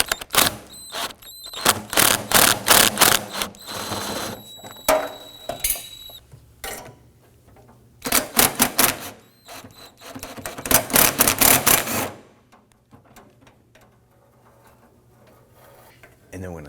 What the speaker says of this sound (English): We're going to use our deep socket extension and our gun, our impact gun here, to loosen these nuts.